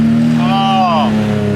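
A BMW E30 fitted with an S54 inline-six is revved to about 5,000 RPM, a loud, close, rising then falling engine note lasting about a second over a steady idle hum.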